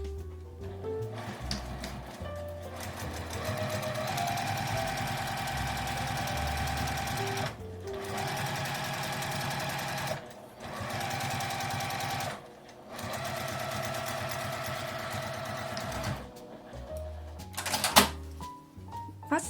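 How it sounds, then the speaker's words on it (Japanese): Sewing machine stitching a fabric edge beside a zipper, running in loud mechanical bursts separated by short pauses, with brief clicks near the end. "ファスナー横の布の端を縫います。"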